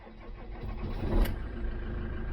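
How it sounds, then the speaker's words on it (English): A car engine is cranked and fires up after diagnostic codes are cleared with an OBD scanner, a brief low rumble that rises and settles into a steady idle, moderately close. "Ignition back on. Crank the engine."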